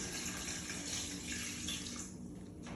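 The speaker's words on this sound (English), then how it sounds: "We're also going to add 2 cups of water" Water pours steadily into a pot for homemade turkey gravy, a continuous splashing rush that thins out near the end; no speech is heard.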